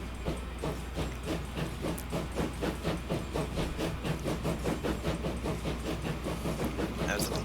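A steam train runs in the video game Transport Fever 2, its chuffing a steady rapid rhythm of exhaust beats with hiss and rolling rail noise, fairly loud and continuous with no talking.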